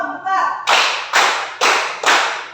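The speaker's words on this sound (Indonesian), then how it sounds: "Tepuk 1, tepuk 2, tepuk 3, tepuk 4" Four loud, sharp hand claps counted out at an even pace in a classroom clapping game, each ringing briefly, following a short stretch of a teacher's voice.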